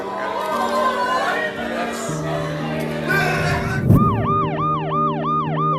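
Ambulance siren in a Paris street crowded with protesters, starting as a long wail under crowd chatter and traffic, then switching to a loud, fast rhythmic yelp pattern close by.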